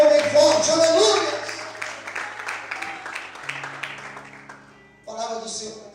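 A church congregation applauds during an evening evangelical service, a rattle of clapping under a preacher's loud voice that gradually fades, followed by a short fresh burst of sound near the end.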